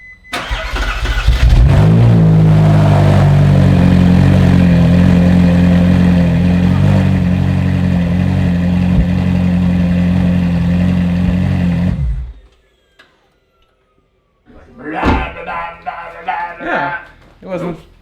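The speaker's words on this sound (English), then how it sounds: "I'm gonna start up with no mufflers, no nothing, just to hear what it sounds like." A Ferrari 458 fitted with an S-Line exhaust and no mufflers starts and revs, a loud, steady engine roar up close for about twelve seconds, then cuts abruptly. A short burst of voices follows.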